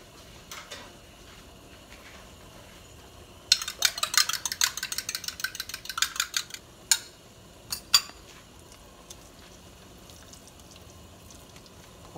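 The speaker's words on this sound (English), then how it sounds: "So now I'm going to get me a fork, mix my eggs." Fork whisking eggs in a bowl for homemade cornbread dressing in a home kitchen: a quick run of rapid, clinking taps lasting about three seconds, then a few separate scrapes and knocks, with no talking.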